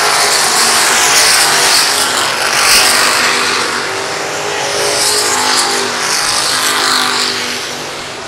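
Race cars roar around Lakeside Speedway's oval track, a loud continuous wash of engines swelling and fading as the pack passes, dense and near, with no clear voices over it.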